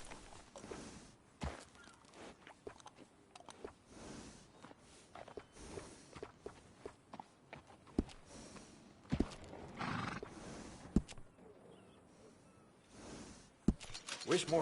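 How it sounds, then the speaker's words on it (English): A horse nickers and whinnies at close range while hooves clop and shuffle irregularly, along with scattered knocks and thuds, in a quiet setting after grooming. "Little fine grooming always sets off a horse."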